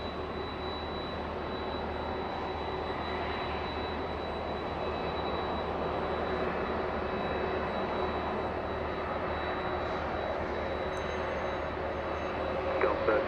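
A Boeing 737 jet at Los Angeles International Airport gives a steady, moderately loud roar that holds evenly throughout and swells slightly at the very end.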